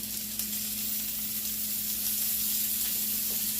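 Salmon topped with butter sizzles on a grill, a steady, even hiss of moderate loudness with a low hum beneath and no talking.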